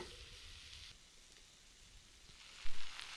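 Mushrooms, onions and garlic frying over an open fire give a soft, steady sizzle as they are stirred. Near the end there is a brief knock, and no one speaks.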